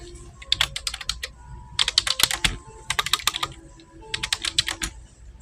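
Fast keystrokes on a computer keyboard come in three or four close, clattering bursts with short pauses between them, near and fairly loud with no talking.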